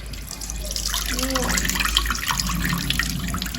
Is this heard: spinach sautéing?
no